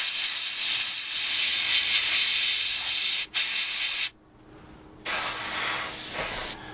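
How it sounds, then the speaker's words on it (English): An airbrush hisses paint onto a 1/48 Tamiya Supermarine Spitfire Mk.I scale model in steady close bursts, with brief breaks and one longer pause before the spray resumes. "Spray it through, okay, so we make sure we get our colour spray through."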